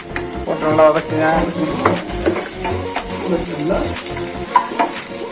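Pirandai (veld grape) sautéing in a pan for thuvaiyal, a steady close sizzle and frying crackle broken by repeated stirring scrapes and light clinks of the spoon against the pan, with no voices.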